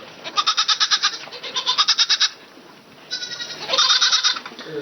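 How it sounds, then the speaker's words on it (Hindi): A neighbor's goat grazing on a small patch of land in front of a house bleats in two rapid, quavering bursts, loud and close, with a short pause between them. "पड़ोस के किसी आदमी की एक बकरी उसमें आकर चरा करती थी।"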